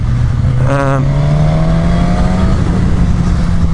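A 2015 Suzuki GSX-S1000 motorcycle engine hums steadily at close range while being ridden along twisty roads, with a brief rising rev partway through and a continuous low drone underneath.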